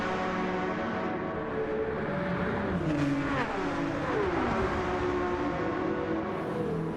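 Racing engines roar continuously as a Beetle and a Porsche battle on the Nürburgring Nordschleife in a video game race, with pitch rising and falling through gear changes and cars sweeping past, loud and unbroken.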